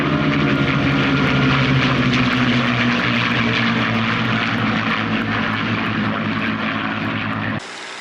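Spitfire, Hurricane and Mustang propeller fighters flying together in formation, a loud, steady droning roar of piston engines and airscrews heard up close throughout, with a sudden drop in level at the very end.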